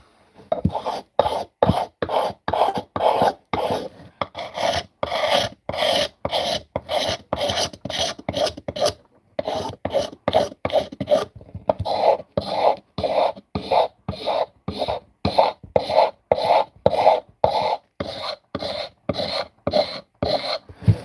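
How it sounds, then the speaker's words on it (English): A knife blade used as a card scraper strips paint from a wooden bushcraft handle, giving a steady run of close, loud rasping strokes in quick rhythm, broken by one brief pause. "I'm just using my knife as a scraping card, just to take this paint off"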